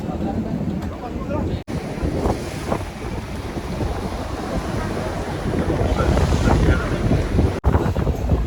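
A boat heads out into the open ocean off Los Gigantes, Tenerife, with strong wind buffeting the microphone, steady engine and hull noise and waves washing continuously, growing slightly louder toward the end.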